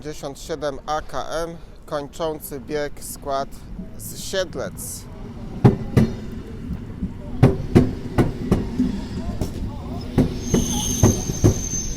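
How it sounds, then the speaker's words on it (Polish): Suburban electric train on the SKM Warsaw S1 line to Otwock departing Warszawa Zachodnia in winter, rolling with rhythmic clatter over track joints and a faint squeal, preceded by someone talking nearby. "to pociąg na linii S1 do Otwocka"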